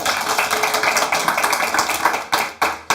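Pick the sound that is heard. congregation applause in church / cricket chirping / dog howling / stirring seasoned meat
congregation applause in church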